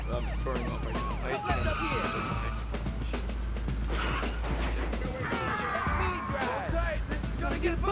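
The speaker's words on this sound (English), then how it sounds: "My sirens, I'm throwing off right now." Police car sirens from the video game Die Hard Trilogy wail in rising and falling sweeps, fading in and out over a steady low engine rumble and crash noises, with people talking throughout.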